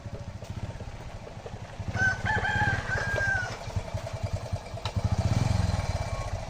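A rooster crows loudly and close by, one drawn-out call over steady background clucking of chickens and a low motor drone.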